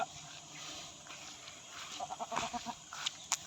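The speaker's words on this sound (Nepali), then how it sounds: "मैले जङ्गलमा यार बाख्रा छोडेको छु" Goats left loose in the jungle give a few short bleats, fairly faint and somewhat distant, over quiet outdoor background.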